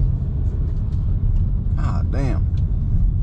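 Engine rumble from a Volkswagen Golf R or Audi S3 (MK8 / 8Y) with a Racingline turbo inlet and intake hose, a deep steady drone under a short exclamation, with brief higher whistling or whooshing bursts near the end.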